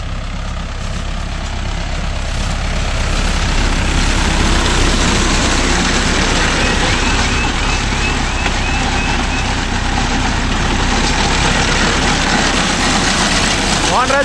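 A Mahindra Yuvo Tech Plus 585 4WD shuttle-gear tractor engine runs steadily and loud up close, a continuous low diesel rumble with a faint beep, while people talk over it.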